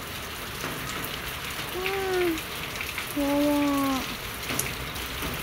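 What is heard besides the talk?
heavy rain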